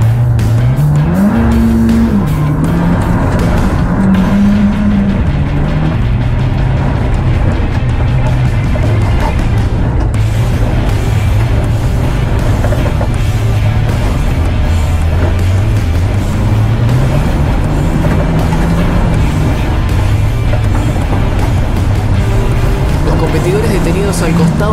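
Rally cars racing along a stage of the 2023 Rally Capilla del Monte, loud engines revving up and down continuously with rising and falling pitch, close and dominant throughout.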